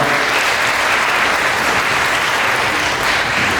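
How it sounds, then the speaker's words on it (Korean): Wedding guests applaud during a ceremony at a Suwon wedding hall, a loud, dense and steady round of clapping from a large crowd. "박수로 환영해 주셔서 감사하겠습니다"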